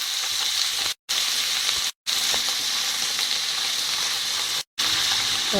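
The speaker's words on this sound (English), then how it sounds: "capsicums have been cooking for a few minutes" Capsicums frying and sizzling in a pan for chilli paneer, a steady loud hiss that runs continuously apart from three brief cuts to silence.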